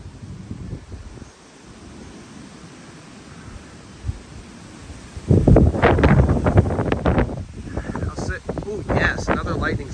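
Strong wind blows ahead of an approaching rainstorm, rough gusting rumble against the microphone that swells into loud bursts partway through, with a person talking over it.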